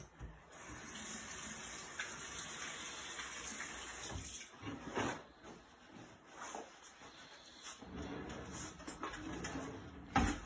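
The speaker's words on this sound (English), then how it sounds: "Just gonna wash my hands." Tap water runs steadily into a sink while hands are washed under it in a kitchen, a continuous close hiss broken by splashy shifts and brief dips as the hands move through the stream, with no talking.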